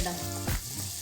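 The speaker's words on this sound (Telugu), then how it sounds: "ఎండుమిరపకాయలు వేసేద్దాం." Dried red chillies frying in a little oil for Chettinad chicken masala, giving a steady close sizzle with a brief louder stir or clatter midway, no talking.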